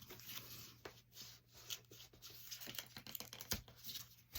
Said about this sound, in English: let's start by kind of carefully peeling these things away